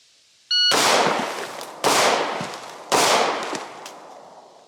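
Three sharp 10mm Auto pistol gunshots fired outdoors at targets, each a loud close crack with a decaying echo, about a second apart, following a brief electronic beep timer.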